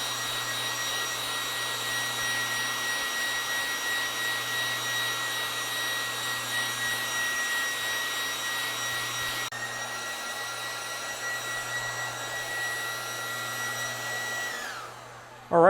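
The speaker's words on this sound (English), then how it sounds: "hair dryer to dry this tail." A hair dryer blows steadily on pheasant tail feathers during taxidermy preparation, a loud continuous whooshing roar with a motor whine that holds for about fifteen seconds, then shifts tone and cuts off abruptly with a sharp knock.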